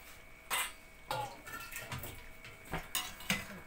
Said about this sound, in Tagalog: Kunting halo lang.